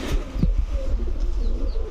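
Red-necked male pigeons in a loft give low, soft cooing that murmurs steadily through the whole stretch, with a few faint higher chirps over a continuous rumble.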